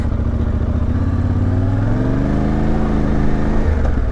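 A Yamaha Ténéré 700 motorcycle on Pirelli Scorpion street tyres spinning its rear wheel in a city, the engine roaring loud and close with a sustained, rising revving drone throughout.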